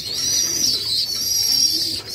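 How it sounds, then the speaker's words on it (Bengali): Pigeon chicks make high, thin, continuous peeping calls close by, with a faint low cooing underneath and no voices. "আমাদের কবুতরে খালি বাচ্চাদের আওয়াজ পাইবেন আর কোনো না, খালি পি পি পি"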